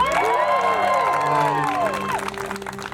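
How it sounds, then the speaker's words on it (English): A crowd cheers loudly at the Maine Lobster Festival, rallying behind contestants in the Sea Goddess coronation with a sustained, close roar of voices, whoops and children's shouts that tapers slightly toward the end. "what I'd like to ask all of you is to cheer as loudly for all the contestants as you do for your own family member"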